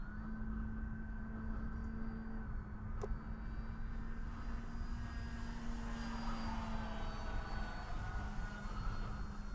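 A small $70 AliExpress RC model plane drones steadily on its maiden flight, a faint, even motor whine held at a constant pitch with no talking.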